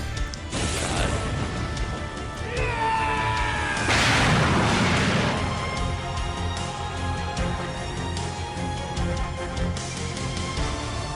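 A spirit bomb attack in a Sonic RPG fan video game erupts into a long, loud booming explosion with crashing bursts, swelling around the fourth second and rumbling on steadily for the rest of the stretch.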